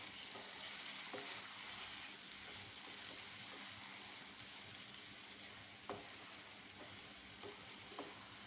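Cow brain frying in hot oil while being stirred, a faint, steady hiss with a few soft clicks of the utensil against the pan.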